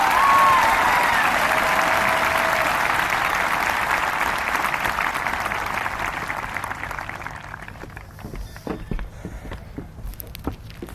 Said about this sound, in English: one more round of applause for all of our outstanding student speakers this evening